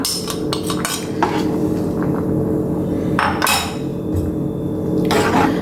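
Spinach stem sambar with ground paste and water is stirred in a pot, the ladle scraping and clinking against the metal in close, uneven bursts over a steady background, with no talking.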